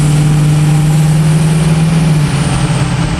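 A Ford 6.0 Powerstroke diesel truck cruising town streets, a steady loud engine drone with a constant low hum that drops slightly in pitch near the end as it shifts.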